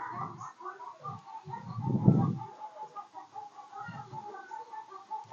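Chickens cluck and murmur in a steady background chatter, with a few louder bursts rising out of the flock, heard on a golf course.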